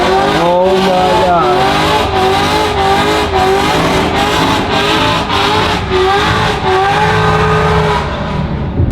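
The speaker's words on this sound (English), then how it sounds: "we got another one doing a burnout" A tuned car doing a burnout, engine held at high revs with a loud, steady roar and squealing tires, pitch wavering as the throttle is worked, continuous for several seconds.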